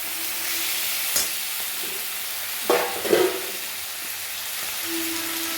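Flat beans cooking in a pan with mustard paste and a little sugar, giving a steady close sizzle with a few louder scraping stirs in the middle and a brief hiss near the end, no voices.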